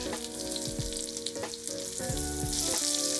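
Squash sizzles and fries in a hot pan, a dense steady crackle close up, with a few clinks and scrapes of a utensil against the pan.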